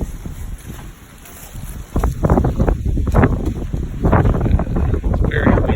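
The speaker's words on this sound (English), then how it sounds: "It's very windy today." Strong wind gusting outdoors beside a parked HVAC service van, a steady rushing roar that buffets the microphone and swells louder in bursts through the second half, with no one talking.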